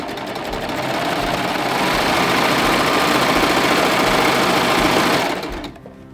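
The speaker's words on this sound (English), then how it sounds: "Just a quick stitch here." An air-threading serger runs a quick stitch, a loud, close, steady mechanical whir with rapid needle chatter that holds for about five seconds, then winds down and stops.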